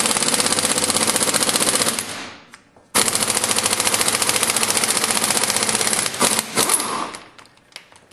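A 2135 TI impact tire gun with a 2-inch extended anvil hammering in two loud rapid rattling bursts, separated by a short pause, then a few brief stuttering blips as it winds down.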